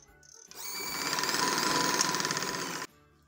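A sewing machine stitches elastic on a capri waistband in one close, steady run of rapid mechanical whirring lasting about two seconds, starting and stopping sharply, with no talk.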